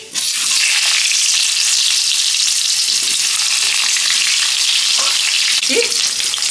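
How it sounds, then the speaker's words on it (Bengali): Potatoes fry in a pan for Govindobhog rice khichuri, a loud, steady sizzle running the whole time with a few soft stirring knocks near the end. "আলুটা একটু ভাজা হয়ে গেলে পরপর সব সবজিগুলো আমি একসঙ্গে ভেজে নেবো"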